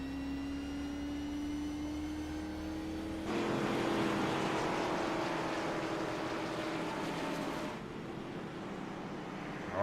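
A race car at the NORA Sharpie 500 coasts with its engine completely off the throttle, a steady mid-level drone with a harsher rushing section in the middle that eases back toward the end, with no talk.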